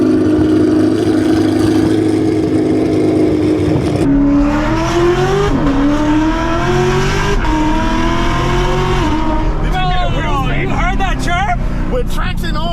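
A 600-horsepower Camaro SS V8 with an MPP exhaust roars loud and close, holding a deep drone before climbing hard through gear shifts, with crackles and pops near the end and voices underneath.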